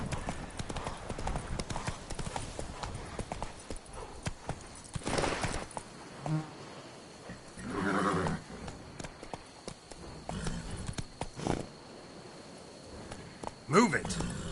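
Horse hooves clip-clopping at a gallop in The Witcher 3: Blood and Wine, steady and up close, with a whinny near the end while a man calls out over it.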